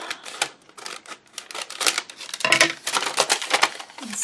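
A paper envelope being cut open with rapid, close, crisp snipping and crinkling strokes, steady throughout and alone without talk.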